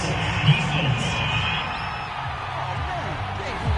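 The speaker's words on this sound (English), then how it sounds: "Well, the crowd doesn't like that." A stadium crowd in the Madden NFL 22 video game boos and murmurs in disapproval after a penalty call, a steady dense roar at mid distance with a brief louder swell, under commentary.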